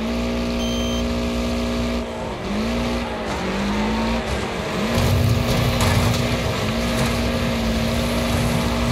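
Hammerhead cars in a Wreckfest demolition derby race at the Maw, with a loud revving engine drone that dips and rises through gear changes, tire noise and scattered impacts.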